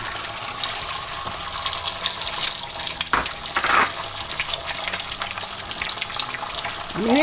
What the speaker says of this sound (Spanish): Vamos a freír los huevos, los huevitos estrellados.